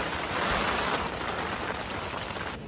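Heavy rainstorm with strong wind in the Uttarakhand hills, a dense, loud continuous hiss of pouring rain that dips slightly near the end, with no voices.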